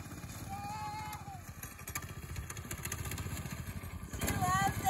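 A Predator 212cc go-kart engine runs steadily at close range with a chugging mechanical rumble, rising in loudness toward the end, with a voice talking briefly over it.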